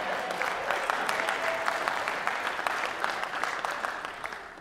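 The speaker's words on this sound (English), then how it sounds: "big round of applause" Audience applause at a church sermon, a steady wash of clapping from many hands that holds for several seconds and slowly fades toward the end.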